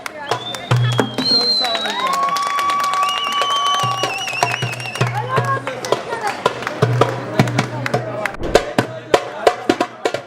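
Crowd applause and cheering at an 18th birthday celebration, steady clapping mixed with chatter and a whistling tone, loud and sustained before thinning into scattered claps near the end.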